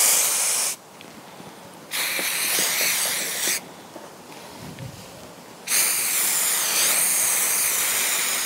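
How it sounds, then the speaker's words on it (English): Spray can hissing onto leather for a gaming table, three long steady bursts close up separated by short pauses, with no talk. "Just gonna spray a bit on here"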